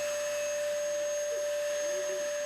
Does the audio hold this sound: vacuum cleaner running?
yes